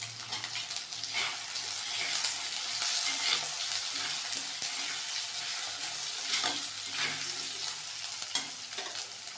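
Raw potatoes fry with browned onion and garlic in a clay pot, a constant close sizzle broken by scraping stirs and clatters of a utensil, with no talking.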